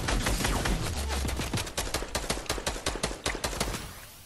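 Video game gunfire crackles in rapid, repeated bursts, a dense fusillade of sharp shots rattling steadily and loudly with no talk over it.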